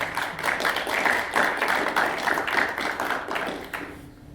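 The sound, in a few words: audience applause after a talk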